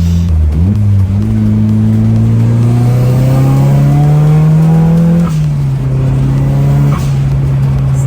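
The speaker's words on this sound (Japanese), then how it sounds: "やっとシルビア走ってるんだ" A Nissan Silvia S14 engine pulls hard and loud from close by on a rough road in Texas, revs climbing steadily before a gear change drops them and they build again.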